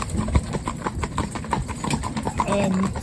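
Horses trotting in harness on a drive with a unicorn hitch, rhythmic clip-clop of hooves in a brisk repeating beat, close by, with a voice talking over it.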